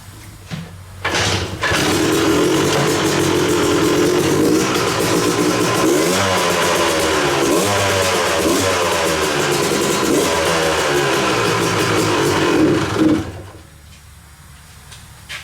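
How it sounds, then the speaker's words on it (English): A motorcycle with a freshly jetted carburetor is kicked and catches, then runs steadily with varying revs for about eleven seconds before cutting back to a quieter idle; loud and close, no talk. "And then we're going to kick it, and hopefully we're all good to go."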